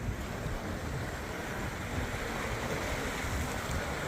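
Ocean surf along the coastal walkway at Jeongdongjin makes a steady, loud roar mixed with heavy wind buffeting, with no distinct breaks between waves.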